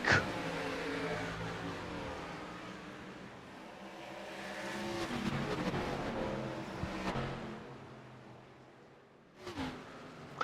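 Race cars take the green flag at Darlington, a blended roar of engines accelerating away at moderate distance, rising and falling as the field passes, with a brief louder burst near the end.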